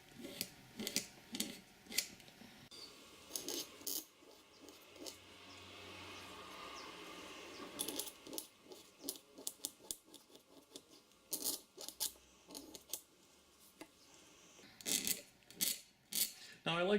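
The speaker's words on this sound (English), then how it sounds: "I'm going to start forming the windows and scrape more cane out of the back." Knife scraping cane from the back of an oboe reed produces short, dry, gritty strokes in irregular clusters, close and quiet, with brief pauses between passes.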